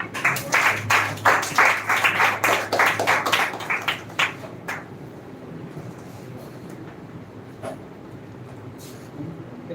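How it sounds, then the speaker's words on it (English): An audience claps loudly and briskly for a speaker at a speech competition event, a dense burst of applause for about four seconds that thins into scattered claps and fades to quiet room noise. "So clap for Mr. Raman"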